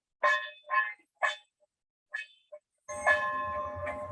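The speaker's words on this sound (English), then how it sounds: "That is our bell in the dining hall." A camp dining hall bell clangs in several separate strikes with pauses between, ringing out with a bright metallic tone, then sustains under some background noise.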